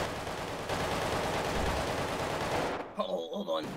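Gunfire inside a store in GTA 5 roleplay, rapid automatic shots forming a dense, loud burst that cuts off abruptly, followed by a brief moment of game sounds.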